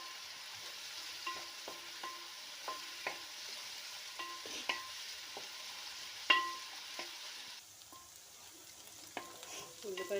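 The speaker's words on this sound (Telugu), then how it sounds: "ఉల్లిపాయలు కొంచెం బాగా ఫ్రై అవ్వాలి." Three medium onions and chopped green chillies frying in a pan for fish curry, faint sizzle under repeated rhythmic taps and scrapes of a spoon stirring, quiet and close.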